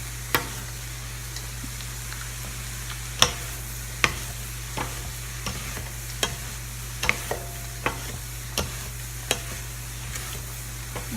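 Teriyaki pineapple rice cooks in a pan, a low steady sizzle broken by a dozen or so sharp spatula clicks and scrapes against the pan at an uneven pace, close by and without voices.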